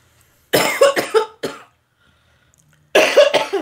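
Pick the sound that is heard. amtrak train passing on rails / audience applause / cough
cough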